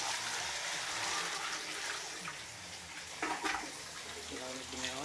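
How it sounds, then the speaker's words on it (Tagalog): Water pours from a tap in a bathroom that doubles as a kitchen, a continuous rushing flow heard close by, with faint voices and clattering mixed in. "Pwede rin buksan ng gripo para mas maraming tubig."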